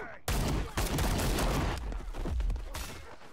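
Gunfire in the Paint the Town Red video game comes as a rapid burst of loud, overlapping shots and blasts, with a brief lull before a final shot.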